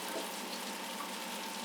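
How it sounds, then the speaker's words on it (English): Butter sizzling and starting to foam in a hot pan while cooking kimchi fried rice, a steady close crackling hiss that runs alone and evenly throughout. "So we're getting a good sizzle out of it."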